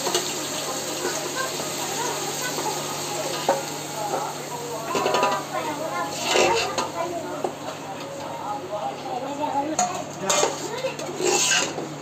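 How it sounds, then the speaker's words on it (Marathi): Ground masala paste being stirred into chicken biryani in a pot, a scraping, wet stirring sound with a soft sizzle underneath and occasional louder clanks of the spoon against the pan. "तर हे आता आपण वाटण टाकूया आणि मस्तपैकी ढवळून घेऊया"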